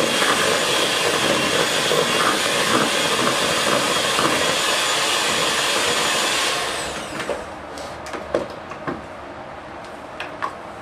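An electric mixer runs at higher speed, beating frosting with powdered sugar mixed in, giving a loud steady whir that stops partway, followed by faint clicks and clatter.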